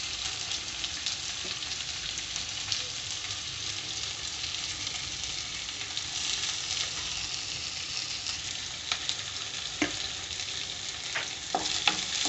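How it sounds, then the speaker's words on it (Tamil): Finely chopped onions with a pinch of fennel fry in a pan for soya chunk gravy, producing a continuous close sizzle with occasional soft stirring clicks and scrapes throughout. "நல்லா இதை கோல்டன் ப்ரௌன் கலரில் வறுத்துக்கோங்க"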